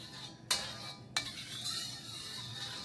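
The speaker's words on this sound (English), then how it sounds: "I spread it around to make sure I've got a good oil coating on all the metal." Oil is spread around a metal wok, with two sharp metallic scrapes or clinks about half a second apart over a faint sizzling background, close and fairly quiet.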